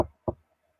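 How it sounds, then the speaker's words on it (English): Two sharp knocks heard close up, about a quarter second apart, each dry and brief and followed by silence. "I keep hearing this knocking sound."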